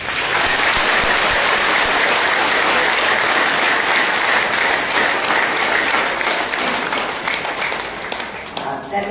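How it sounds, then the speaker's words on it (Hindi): A church congregation claps loudly and continuously, a dense wash of many hands that holds steady before thinning slightly near the end. "प्रभु यीशु मसीह के नाम से हम जोर से ताली बजाएंगे"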